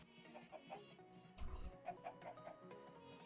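Several quick, soft clucks from Minecraft chickens come in a loose cluster, with a brief dull thump in the middle and faint game ambience behind.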